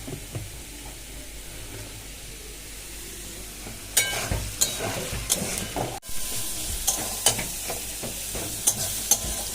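Potatoes frying in oil make a low steady sizzle that grows busier halfway through, with repeated scraping and clinking of a spatula stirring the pan and no one speaking.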